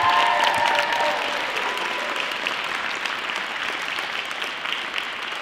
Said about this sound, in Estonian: Et teeme see Marjale ühe suure aplausi veel.